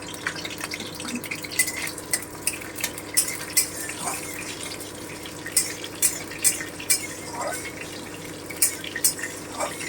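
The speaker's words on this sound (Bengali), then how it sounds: "যে তেল আমার গরম হয়ে গেছে এর মধ্যে আমি এবার কালো জিরে আর কাঁচা লঙ্কাটা দিয়ে দিলাম" Nigella seeds and green chillies drop into hot mustard oil, crackling and spattering in quick irregular pops over a steady sizzle, with occasional utensil clinks.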